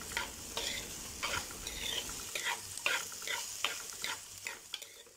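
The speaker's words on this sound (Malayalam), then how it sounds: "നമുക്ക് ഇതിലേക്ക് ആവശ്യത്തിന് ഉപ്പ് ചേർത്ത് കൊടുത്ത് വഴറ്റി എടുക്കാം" Onions sautéed with salt in a pan for a fish mappas, sharp scraping stir strokes repeating every half second or so over a soft, close sizzle.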